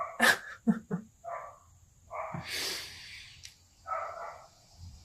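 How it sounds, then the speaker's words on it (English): A neighbour's dog outside gives a few muffled barks and snorting, breathy sounds, faint and somewhat distant, with gaps of quiet between them. "my neighbor's dog has been let outside"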